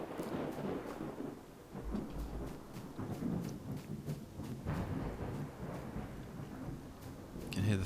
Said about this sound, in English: Can hear the thunder.